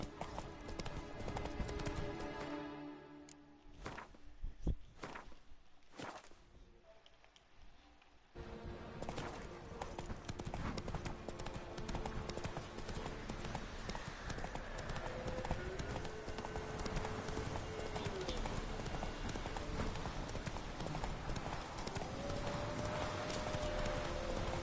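Roach, the horse from The Witcher video game, trots with steady clip-clop hoofbeats that run through most of the stretch. A neigh and some game voices can be heard over the steps.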